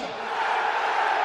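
A roaring football stadium crowd at a Napoli versus Real Madrid Champions League match, a loud, continuous massed roar that swells slightly and holds steady.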